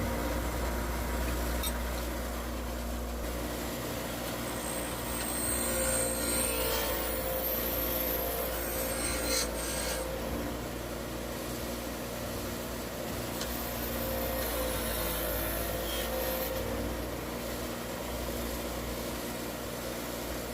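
A wire wheel scrubs corrosion off a car battery carrier, producing a steady, unbroken whirring and abrasive hiss that stays close and loud for the whole stretch, with no talking.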